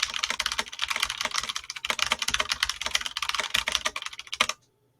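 A continuous flurry of fast, clattering keystrokes on a mechanical keyboard, close and loud, running for several seconds before stopping abruptly.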